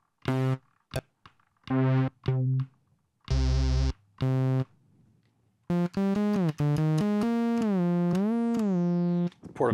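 A Yamaha SEQTRAK portable synth plays short clipped notes, then a sustained buzzy tone, then a run of notes that glide smoothly in pitch from one to the next, fairly loud and close with no talking.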